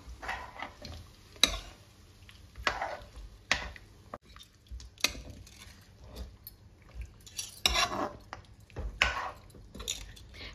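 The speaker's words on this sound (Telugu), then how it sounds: "కర్డ్ వేసేసుకొని కలుపుతుంది" Green chicken curry with curd gets stirred in a pan, a spoon scraping and clinking against the metal in irregular taps and strokes, close and fairly quiet, with no voices.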